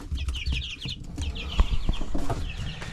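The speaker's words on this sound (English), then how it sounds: "Do we have roosters? Do we have hens?" Chickens, both hens and roosters, cluck and chirp in a close, busy flock, with repeated high calls in short bursts over low rustling and shuffling.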